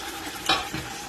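Vegetables hit hot oil in a pot for Nigerian fish stew, giving a brief crackling sizzle with a sharp splatter burst and a scrape of stirring, up close.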